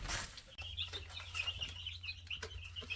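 Hens cluck and chatter softly in and around a backyard chicken coop where newly moved baby chicks are settling in, with a low steady hum underneath and a few brief bird calls rising over it.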